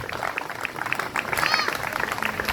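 Applause from the audience at a koi show awards ceremony for the head judge, a steady, dense patter of many hands with voices and cheering mixed in throughout.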